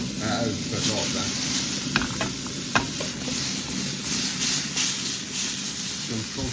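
Steak sizzles and spits in a pan, a dense steady frying hiss with a few sharp pops and faint stirring clatter, up close.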